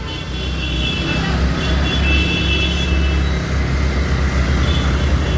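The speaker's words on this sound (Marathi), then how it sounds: "नाही रे ट्रॅफिक बघा किती आहे" Heavy road traffic in Ratnagiri near the bus stand, a steady, loud roadside wash of engines and passing vehicles that runs for the whole stretch with no clear gaps.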